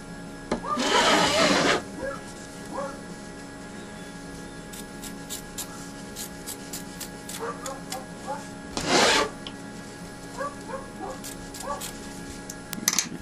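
Scissors trimming crazy quilt block fabric: two bursts of steady rasping cuts, one early and one later, with scattered small clicks and taps in between, close and quiet.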